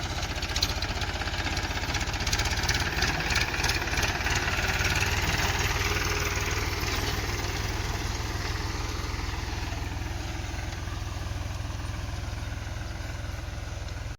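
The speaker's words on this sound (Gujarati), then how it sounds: "ટ્રેક્ટર શેઢે પોગી ગયું છે" A tractor engine chugs steadily at a moderate distance while sowing sorghum in a field, a continuous low mechanical rumble with no voices.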